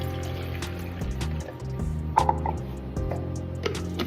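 Water poured into a plastic sports bottle for mixing a powdered drink, a close gurgling fill with shifting pitch and a few light clicks and knocks, no talking.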